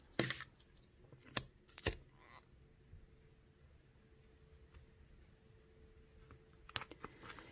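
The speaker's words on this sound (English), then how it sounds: "So to end it, I'm going to cut off my thread." Scissors snip through white beading thread at the end of a bead-embroidery fill, a few quiet, close clicks and cuts in an otherwise hushed room.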